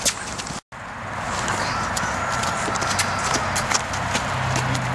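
A horse walks during long lining, its hooves clip-clopping in a steady rhythm close by over loud, constant background noise, with a brief dropout near the start.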